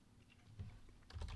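Quiet computer keyboard typing while entering a stock ticker, a few soft close keystrokes in a short burst, faint and alone.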